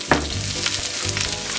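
Rainbow Swiss chard stems and onion sautéing in a pan, a bright close sizzle with spoon-stirring scrapes and bumps over a low hum.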